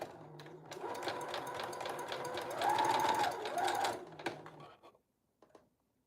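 A home sewing machine runs in a steady, close-up mechanical whir while stitching fabric, holding for about four seconds, rising slightly near the end, then stopping abruptly with a few quiet clicks afterward.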